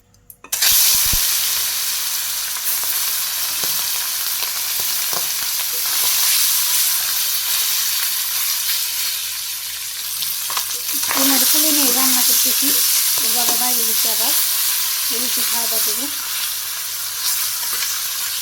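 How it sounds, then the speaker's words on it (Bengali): Fish fries in hot oil in a Bangladeshi village kitchen, giving a loud, continuous close-up sizzle and hiss, with a faint voice briefly audible partway through. "গরম হয়ে গেছে তেল দিয়ে দিই মাছ ভাজির জন্য"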